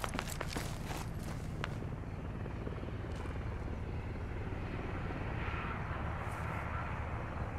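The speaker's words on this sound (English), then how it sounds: "We're going to the helicopter." A helicopter in the military shooter Squad drones with a heavy, steady rotor and engine roar close by throughout. Rapid footsteps and clatter sound briefly at the start.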